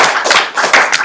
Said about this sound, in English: Alright, everybody give Sean a great round of applause.